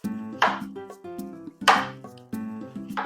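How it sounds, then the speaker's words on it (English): A knife slices red onion into very fine, almost shaved strips on a cutting board, three crisp chopping strokes in an even rhythm, close and clear against soft background music. "cut it into very, very fine strips, almost shaving it"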